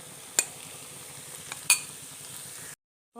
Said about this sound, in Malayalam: മുട്ടയൊക്കെ വെന്ത് തുടങ്ങിയിട്ടുണ്ട് അതൊന്ന് ഇളക്കി കൊടുക്കാം